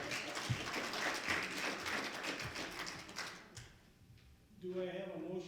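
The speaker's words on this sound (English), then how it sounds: "It's a great applause." Moderate applause at an annual meeting after a vote by acclamation rattles for a few seconds, then dies away, and a voice starts speaking as the clapping ends.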